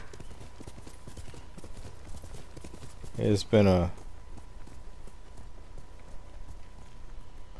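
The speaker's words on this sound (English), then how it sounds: "You're a good horse" Horse hooves clip-clop briefly in the Ghost of Tsushima video game, a short burst of a few loud, close steps mid-clip with someone talking before and after over a quiet game background.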